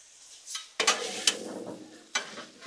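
Frozen meatballs land on a hot Blackstone griddle top, giving sharp bursts of sizzle with scraping and stirring sounds between them, close and fairly loud in several separate surges.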